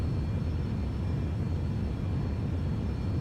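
A heavy airliner's engines roar in a steady, loud, broadband rumble during the takeoff roll in the X-Plane 11 flight simulator, with no talk over it.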